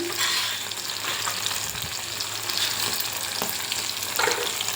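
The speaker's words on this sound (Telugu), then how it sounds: "ఈ పచ్చిమిర్చి వేగాక మనం మిగతా వేసుకున్నాము" Green chillies frying in a pan for beetroot chutney, a continuous soft sizzle with faint stirring scrapes, heard up close with no talking.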